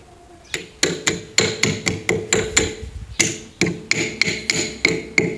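Metal hammer strikes driving a cotter pin into the tie rod of a John Deere 4430 tractor, about fifteen sharp close blows in a steady rhythm with a brief pause midway, no talking.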